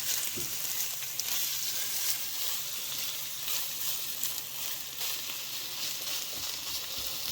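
Eggs and cheese frying together in a pan, a steady, fine hiss of sizzling that runs unbroken and fairly quiet throughout, with no voices over it.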